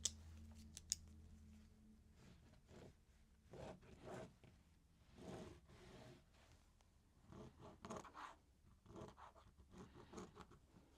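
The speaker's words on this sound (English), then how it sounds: "I'm going to cut it with the scissors" Scissors snip repeatedly through material during sewing preparation, a close series of crisp cuts and scrapes in an uneven rhythm, loud and mostly alone.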